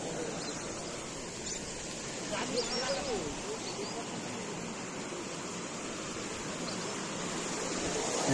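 Overflow water pours over a small dam at Maidi Tal in Pokhara, a steady, close rushing wash that runs unbroken for the whole stretch with no clear pauses.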